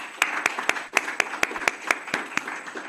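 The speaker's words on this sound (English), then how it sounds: "Everybody, a round of applause again." A small audience after a publishing talk gives a thin round of applause, a few distinct sharp claps in a steady rhythm, roughly four per second, fairly quiet and close.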